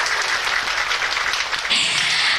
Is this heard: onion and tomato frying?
no